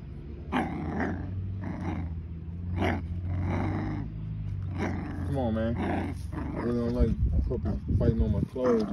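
Puppies play and growl, with repeated rough snarls and grumbles close by as they tussle, while someone talks over them throughout.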